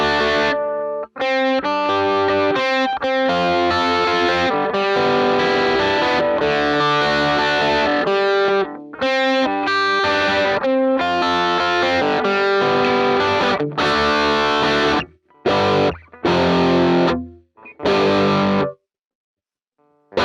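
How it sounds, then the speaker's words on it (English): Electric guitar driven through a Tube Screamer overdrive for a rock tone, playing loud distorted riffs alone with sharp stops and gaps, then trailing into silence near the end. "the tube screamer actually definitely helps a lot with this tone"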